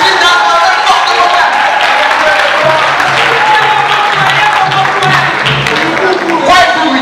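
Funeral audience applauding vigorously at a Congolese memorial ceremony, dense sustained clapping that stays loud and steady for several seconds, with a voice faintly under it.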